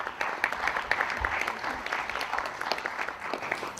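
A round of applause for student debaters at a debate competition, many hands clapping in a dense, even patter with occasional sharper claps, fairly faint and distant, with a brief low thump partway through.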